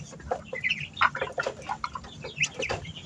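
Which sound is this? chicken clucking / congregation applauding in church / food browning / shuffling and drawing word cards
chicken clucking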